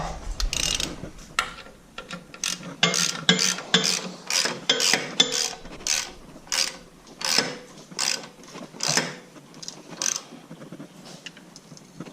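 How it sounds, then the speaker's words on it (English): Ratcheting wrench clicking as tight bolts are turned, heard in repeated bursts of sharp metallic ratchet clicks with short pauses between strokes, close and fairly loud, with no talk. "I gotta go back in with a wrench, because I gotta use a wrench on a couple of them"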